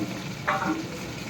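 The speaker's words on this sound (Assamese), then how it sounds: "মাংসটো পূৰা ড্ৰাই ফ্ৰাই কৰিছোঁ" Spiced meat dry-frying in a pan, with ginger, garlic and chili, gives a faint steady sizzle and a short stirring scrape partway through, with no voices.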